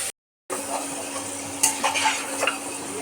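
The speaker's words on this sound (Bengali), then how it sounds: "এখন ধীরে ধীরে ভালো করে কষিয়ে নেব মাংসগুলো" Mutton pieces coated in ground cumin, coriander and ginger paste are stirred and sautéed in a pan, giving a soft, steady sizzle broken by a few metal scrapes and clinks after a brief silent gap.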